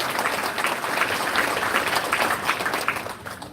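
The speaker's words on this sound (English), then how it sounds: "What about another big round of applause for our heroes dancer this evening?" An audience applauds a dance troupe at a Hmong New Year community event, steady dense clapping that holds for a few seconds.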